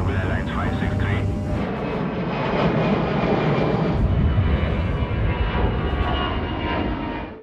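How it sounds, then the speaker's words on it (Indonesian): Airliner jet engines spooling at takeoff power on the runway, a loud, steady broadband roar that holds for the whole stretch, with faint cabin voices briefly underneath. "Engines are stabilized for takeoff."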